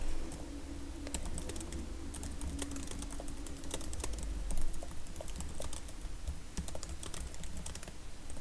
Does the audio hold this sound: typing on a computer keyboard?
yes